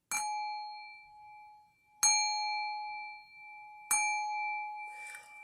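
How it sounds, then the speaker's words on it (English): A singing bell struck softly three times at even intervals, each strike ringing out in a clear sustained tone that slowly fades, heard close and alone in a quiet room. "I'm going to ring the singing bell now 3 times"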